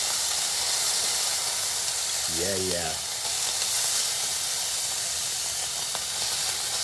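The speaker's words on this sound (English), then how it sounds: "what you're hearing is that orange juice and the fat from the carnitas and the oil are coming together." Pork carnitas frying in a pan with oil, orange juice and rendered fat, giving a loud, steady, broadband sizzle and hiss throughout, with a brief spoken word partway through.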